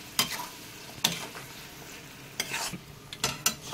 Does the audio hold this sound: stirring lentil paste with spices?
yes